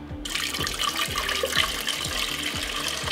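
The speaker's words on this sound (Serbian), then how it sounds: "I evo nakon 15 minuta vratit ćemo vodu u šerpu." Water poured from a jar back into a cooking pot, a continuous close splashing gush that holds steady throughout.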